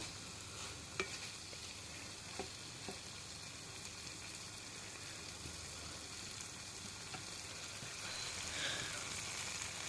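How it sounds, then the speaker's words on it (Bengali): Taro (kochu mukhi) curry is stirred and cooked down in a pan, with a continuous soft sizzle and occasional light scrapes and taps of the spoon. "আর একটু নেড়ে চেড়ে কষিয়ে নিয়ে নামিয়ে ফেলবো"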